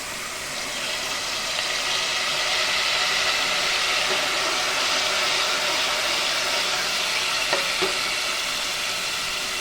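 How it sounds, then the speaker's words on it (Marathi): Boiled val beans and peanuts go into a hot Maharashtrian tempering in the pan, giving a steady, even sizzle that holds throughout at moderate volume. "त्यानंतर जे आपण वाल आणि शेंगदाणे बॉईल केले ते घालायचे आहेत।"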